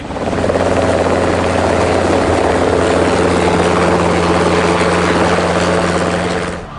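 Military fighter helicopters flying overhead, a loud steady rotor and engine drone with a strong low hum that holds constant throughout before easing slightly at the end.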